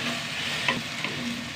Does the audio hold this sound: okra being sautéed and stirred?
yes